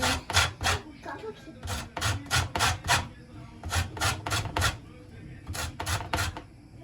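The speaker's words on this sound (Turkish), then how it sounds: "Şu anda köftenin içerisinde limon rendeliyor. Limon kabuğu ekliyor biraz." Lemon peel grated by hand into a meatball mixture, a steady series of rasping strokes in quick clusters with short pauses, close and fairly quiet.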